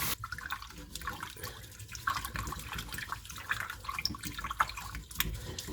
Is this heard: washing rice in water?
yes